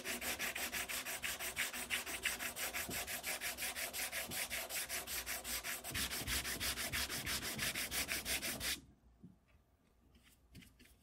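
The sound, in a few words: hand sanding the back of holes in wooden Kar 98 rifle stock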